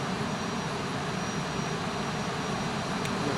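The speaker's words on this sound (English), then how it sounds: "That's the aircraft. The Boeing 737-800, Ryanair." A Ryanair Boeing 737-800 in the X-Plane flight simulator gives off a steady, unbroken roar of jet engine noise, loud and constant throughout.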